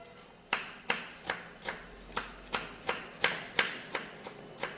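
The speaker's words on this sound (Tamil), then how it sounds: "குட்டி குட்டியாக சாப் பண்ணிக்கலாம்." Fresh coriander leaves are chopped with a knife in a kitchen, about a dozen crisp, evenly spaced cuts landing close and clear, each a sharp tap on the board with a brief fade, and no talk.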